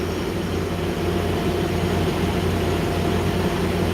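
Steady low rumble and broadband roar of a Sounder commuter train arriving at a station, continuous and fairly loud, without any voices.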